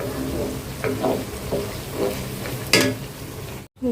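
Onions frying in a pan while preparing dal puri, a soft steady sizzle broken by several scraping stirs of a spatula, close and fairly loud, ending in a brief silence.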